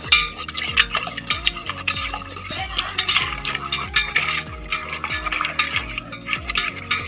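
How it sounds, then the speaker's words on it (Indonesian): Eggs whisked briskly in a bowl for mini caramel cake, a steady run of rhythmic clicking and scraping strokes that stays close and fairly loud throughout, with no talking. "Telurnya cukup terkocok seperti ini saja."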